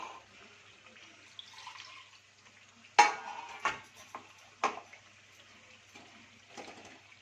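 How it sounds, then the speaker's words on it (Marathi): Hot water splashes and gurgles briefly into a pot of chicken gravy, with a few sharp clinks and knocks of metal against the rim over a quiet background. "ते गरम पाणी याच्यामध्ये टाकूया आपण."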